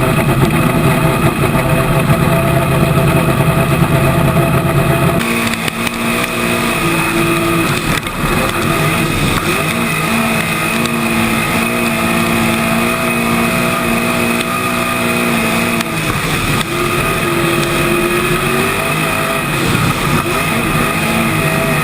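Several modified touring-series race cars idle and rev together at a short-track restart, a loud steady engine drone throughout with a sharp shift partway in, no talk over it.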